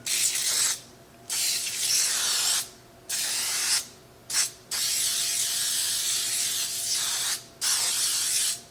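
Baker's Joy baking spray hisses from an aerosol can onto cake pans in five or six close bursts, each lasting about a second or more and separated by short pauses, alone with no talk.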